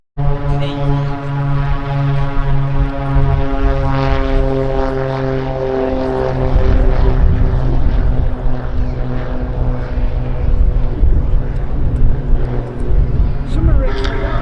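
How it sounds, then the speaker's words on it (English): A Boeing B-17 bomber's piston propeller engines drone steadily on the flight line at an air show, loud and close with a deep layered hum, while people talk over it. "Just wanting to see what's happening with the B-17, which is out there on the flight line."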